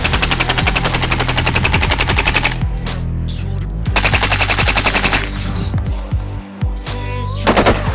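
Guns are fired in rapid automatic bursts, a fast regular rattle of loud close shots broken by short gaps, with further volleys and a few heavier bangs later on.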